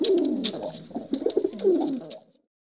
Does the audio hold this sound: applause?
no